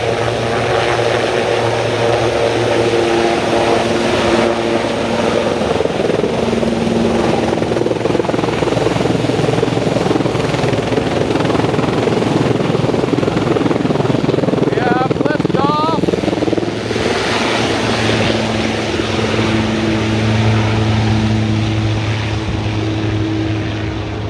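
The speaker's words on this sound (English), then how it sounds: "It's about to go. A Sikorsky." A Sikorsky helicopter takes off on a New York City street walk, its rotor drone loud and continuous for over twenty seconds under steady city and traffic noise.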